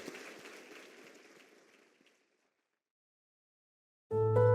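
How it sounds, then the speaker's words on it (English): A round of applause closing a roundtable talk, fading from moderate clapping to silence within two seconds, followed after a pause by a sudden loud sustained musical tone. "let's celebrate her with a round of applause"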